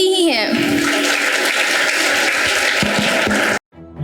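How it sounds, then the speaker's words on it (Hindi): Applause from a school audience at an Independence Day celebration, cheering on student performers about to stage a patriotic play; dense, loud clapping runs steadily for several seconds, then cuts off abruptly. "इनके उत्साहवर्धन के लिए तालियां तो बनती ही हैं।"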